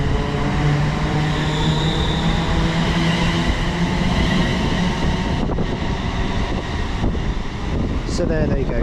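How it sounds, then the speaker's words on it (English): A Class 380 electric train departs Dalry station on the Ayrshire Coast main line, a loud steady rolling rumble with humming motor tones and rattling wheels that shifts as the carriages pass close by. "So there you go, 380 and 380 113 departing Dalry."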